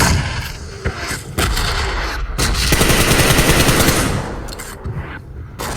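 Loud, dense automatic gunfire and explosions in the battle royale game PUBG Mobile, long bursts of rapid shots that dominate the whole stretch with a short lull near the end.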